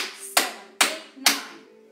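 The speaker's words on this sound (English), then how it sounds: "we're going to clap our hands together." Three sharp hand claps spaced evenly about half a second apart, near and clear in a quiet room during a family qigong class for back health.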